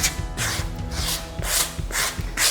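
A tool rubs a textured suede-effect decorative paint across a wall in crossing, overlapping strokes, giving a close, rhythmic scraping swish that repeats about every half second.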